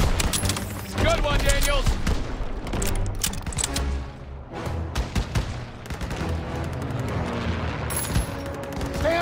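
Rapid bursts of rifle and machine-gun fire in Call of Duty WW2 during a courtyard assault, loud and close, repeating through the clip while soldiers shout over it.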